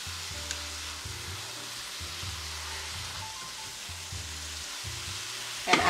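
Chopped tomatoes with salt and seasoning cook in a pan, giving a steady, quiet, close sizzle that continues evenly without any talking.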